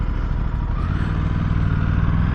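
An Aprilia sport bike, RS660 or RS457, running in Sport mode with a steady, loud engine drone that holds constant and fills the whole stretch without a break.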